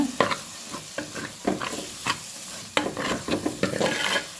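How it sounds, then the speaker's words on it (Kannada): Ground coriander and cumin masala cooks in a pan while it is stirred, giving a close, steady sizzle broken by repeated scraping strokes, with no talk. "ಈಗ ಮಸಾಲೆ ಎಲ್ಲ ಬೇಯ್ತಾ ಬಂತು."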